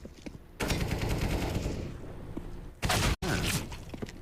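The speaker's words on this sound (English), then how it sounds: "Nice shot there from dupreeh's Deagle." Gunshots in a CS:GO match on the Vertigo map, with a Desert Eagle pistol among the weapons: loud sharp reports and rattling fire, a sustained burst early, then a tight cluster of sharp cracks with a sudden cut near the end.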